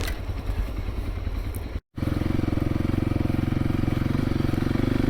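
A Kawasaki KLX300 trail motorcycle riding through woods, its engine a steady rapid thrum close by, with brief clatter and a short dropout before the pulsing engine note resumes.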